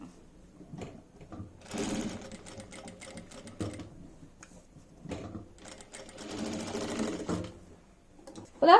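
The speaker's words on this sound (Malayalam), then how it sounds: "അപ്പൊ ഇതിങ്ങനെ ഒന്ന് റൗണ്ട് ചെയ്തൊന്ന് സ്റ്റിച്ച് ചെയ്ത് കൊടുക്കാം, ഓരോ 4 വശവും." A sewing machine runs around the edges of a cloth piece in several steady whirring bursts separated by short pauses and handling noises, close and fairly loud, with no talking.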